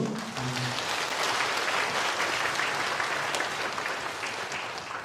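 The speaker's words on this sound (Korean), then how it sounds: "네, 환영합니다. 우리 박수로." A church congregation at an Easter service claps in welcome for a visitor, a fairly soft, steady round of applause that carries on evenly, with a brief low voice at the start.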